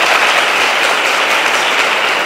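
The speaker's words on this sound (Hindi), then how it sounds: "पहले तो क्लैप करो इनके लिए" Students at an inter college speakout session clapping together in a hall, a dense, loud and steady burst of applause that keeps going without a break.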